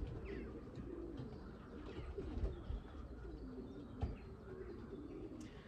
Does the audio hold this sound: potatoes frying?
no